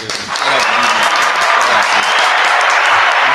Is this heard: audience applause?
yes